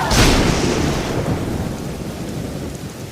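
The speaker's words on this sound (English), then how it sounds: "Look, another storm is coming." A loud thunderclap cracks at the start and rolls away into the steady hiss of heavy rain.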